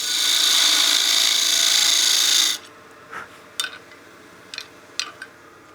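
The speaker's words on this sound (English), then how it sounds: "switch to my spindle gouge to give myself a little more clearance for that tenon." A spindle gouge cuts spinning wood on a lathe, giving a loud continuous shearing hiss for a couple of seconds, then stops, followed by a few light scattered taps and scrapes.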